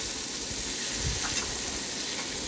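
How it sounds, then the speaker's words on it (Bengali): Small puti fish fry in hot oil in a pan and are turned gently, giving a dense, continuous close sizzle with faint stirring underneath. "আর মাছটা একটু আস্তে আস্তে সাবধানে নাড়তে হবে।"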